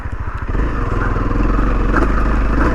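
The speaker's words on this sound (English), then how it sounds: "We're gonna ride over some logs today." A dual sport motorcycle engine rumbling on a soggy logging road as the bike rides over logs, a steady close throbbing putter that swells in loudness after a short quieter start.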